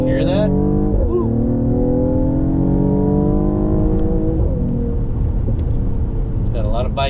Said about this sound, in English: The exhaust opens up in Sport Plus.